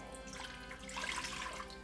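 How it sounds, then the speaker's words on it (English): Water is poured into an Instant Pot, a soft continuous splashing and gurgling rush that swells slightly midway, close and fairly quiet over a faint hum, with no talking. "take your Instant Pot, dump in 1 cup of water"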